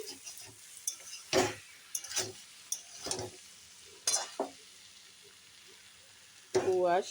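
Malabar spinach curry ingredients with potatoes sautéing in a pan, soft sizzling under intermittent spatula scrapes and clinks against the metal, close by, with a voice briefly heard near the end.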